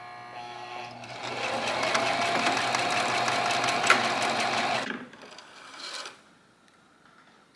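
A sewing machine stitches the edge of a beeswax wrap in a steady, close, mechanical whir for about five seconds. It stops, runs briefly once more, then falls quiet.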